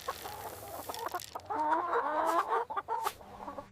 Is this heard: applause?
no